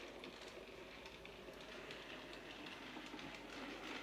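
A Hornby model train pulling a few small wagons runs steadily along the track, giving a continuous low rumble with faint rhythmic clicking, fairly close and alone with no talk.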